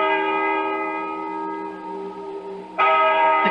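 Bell sound effect tolling in an old barn in a 1974 CBS Radio Mystery Theater drama, a sustained ringing tone that fades, then a fresh loud strike near the end.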